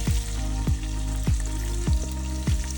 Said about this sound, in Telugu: ఇప్పుడు ఆనియన్స్ ఈ పచ్చిమిర్చి బాగా బ్రౌన్గా వచ్చేంత వరకు ఫ్రై చేసుకోవాలి.